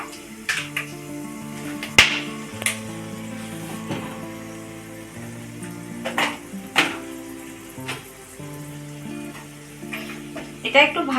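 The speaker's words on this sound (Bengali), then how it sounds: "এবার আমি কড়াতে দিয়ে দেব প্রথমেই দারচিনি আর জয়িত্রী।" Cinnamon and mace frying in hot oil in a kadai, a soft steady sizzle beneath prominent background music, with a few sharp clicks and taps from the pan.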